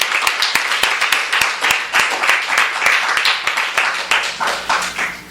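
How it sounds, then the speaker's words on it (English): An audience at a book reading applauds an author taking the stage with steady, lively clapping and sharp individual claps standing out from the crowd. A few faint voices mix in before it tapers at the end. "Almost makes you jealous, but let's clap instead for the one and only."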